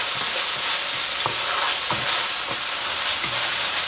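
Onions and panchforon spice mix sizzle steadily in a hot pan, a dense frying hiss broken by several soft scraping stirs of a utensil at roughly regular intervals.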